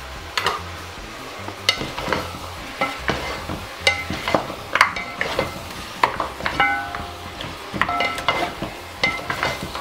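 Beef sizzles in a pan with onions under repeated metallic scrapes and clinks of a utensil stirring against the pan, close and fairly busy.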